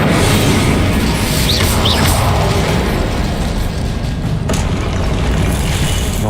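A fire spell cast in Hogwarts Legacy gives a loud, sustained roaring blast that fills the whole span with dense low rumble, with a brief sharper burst near the end.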